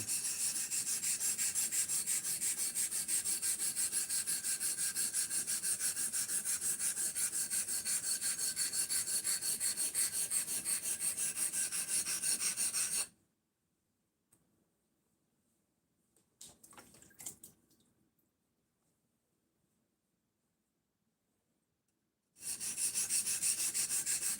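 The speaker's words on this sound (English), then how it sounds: "Sharpening my sharpening stone." A knife sharpening stone being flattened by rubbing, a steady rasping scrape for several seconds, then a gap with faint handling noise before the grinding resumes.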